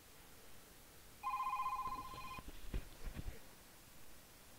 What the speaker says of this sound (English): I had an incoming phone call.